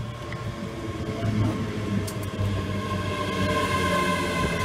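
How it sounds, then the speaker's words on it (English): A long train rolls past nearby, its steady rumble of wheels and rail noise filling the scene at an even, loud level with occasional higher squeals over the continuous low drone. "We're getting longer trains here."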